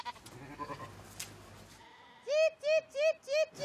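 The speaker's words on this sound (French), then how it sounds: "Au cœur des barres d'immeubles, ces moutons profitent d'herbages étonnamment riches et réveillent les quartiers." Sheep bleating in a city neighbourhood among apartment blocks: four loud, close bleats in a steady series, following a stretch of people talking.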